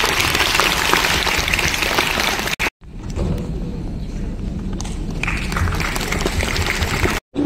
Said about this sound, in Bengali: হাততালিটা হোক